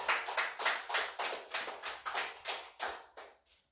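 A small church congregation claps in a quiet, rhythmic pattern, about a dozen soft, evenly spaced bursts that thin out toward the end, sounding fairly distant and faint.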